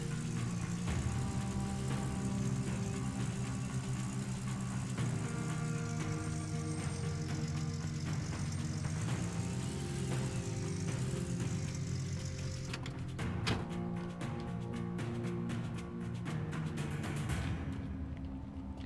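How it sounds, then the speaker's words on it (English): A truck engine in Gold Rush: The Game laboring uphill, a steady mid-pitched drone that holds loud and continuous throughout, with added clattering texture toward the end. "Come on, truck, you can do it. Get on up that hill."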